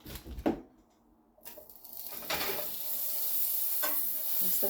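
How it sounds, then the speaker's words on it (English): Butter melting in a front frying pan sizzles with a steady, hissing crackle that swells after a brief quiet moment and then holds at a constant level. "so we'll put some butter in the pan."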